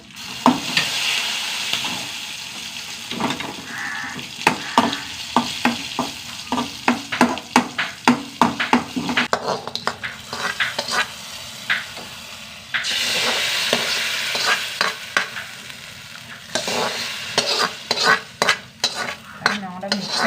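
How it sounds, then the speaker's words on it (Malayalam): A quarter spoon of asafoetida powder crackles in hot oil after the gas is switched off, a close sizzle broken by repeated spoon scrapes and clinks against the pan, with no voices. "കാൽ സ്പൂണ് കായപ്പൊടി അത് ചൂടോടെ എണ്ണയിൽ"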